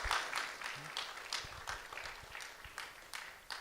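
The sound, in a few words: church congregation applause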